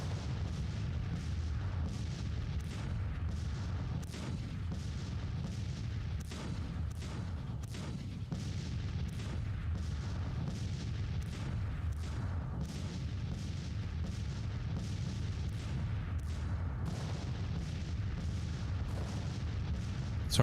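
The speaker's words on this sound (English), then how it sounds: "All right, so we're bombarding Fort Macon." Artillery pounds Fort Macon in Grand Tactician: The Civil War, with a steady low rumble carrying repeated distant booms and cannon thuds throughout, with no talking.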